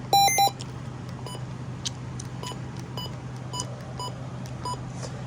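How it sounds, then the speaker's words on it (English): Short electronic button beeps from a Midland WR120 DSP weather radio: a loud multi-tone beep burst at the start, then a string of brief, evenly spaced single beeps over a steady low hum. "this radio does not have the option to disable button beeps"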